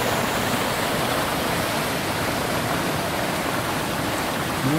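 Water pours steadily out of a temple pond at Poteryaevka while ice still lingers, making a loud, continuous rushing wash like a small waterfall, close by and with no other sounds.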